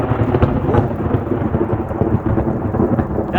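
Loud thunderstorm at night with a steady roar of heavy rain and rumbling thunder, with wind gusting over continuous downpour close to the microphone.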